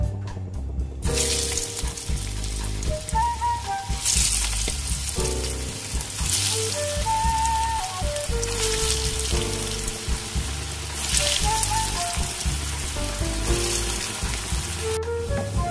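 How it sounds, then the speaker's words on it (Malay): Hot oil crackles and sizzles continuously as vadai dough fritters deep-fry, with occasional clinks and stirring noises, steady and close, no talking. "Minyak dah panas, kita goreng kuih ni ya."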